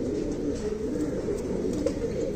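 Fancy pigeons in Khulna, Bangladesh keep up a dense, unbroken cooing, near and steady, the throaty burble running the whole time without speech.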